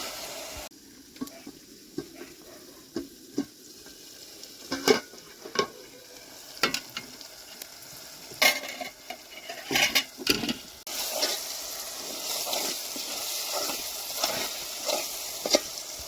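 Masala for Gujarati-style prawn curry is mixed in a pan: irregular scrapes and knocks at first, then a steadier sizzle with ongoing stirring, heard close without talk.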